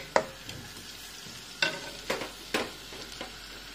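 Ginger sizzles in one to two tablespoons of hot olive oil, with a low frying hiss underneath and several sharp stirring clatters spaced about a second apart, close and fairly quiet.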